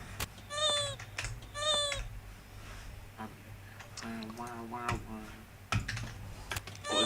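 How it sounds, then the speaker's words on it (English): Keyboard typing comes through a live microphone during a game session as scattered clicky keystrokes. It is mixed with other bursts and tonal calls, and the typing carries on fairly close and moderately loud. "If you're gonna be doing a lot of typing, you might not want to have your microphone on as well."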